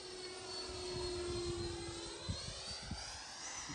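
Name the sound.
Freewing MiG-29 RC jet flying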